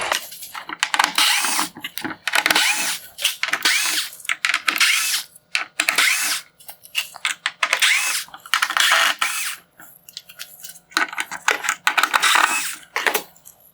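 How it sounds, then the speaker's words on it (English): Power driver backing out T15 Torx screws from the rear of a 2015-2018 Nissan Murano LED headlight housing, a loud ratcheting whir in repeated short bursts with brief pauses between screws. "Before I can remove the lens, I need to remove the T15 Torx screws around the rear of the headlight."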